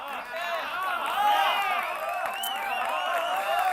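A crowd at the trailer launch of the film Nil Battey Sannata cheers and whoops continuously, with many voices overlapping in a lively, sustained roar.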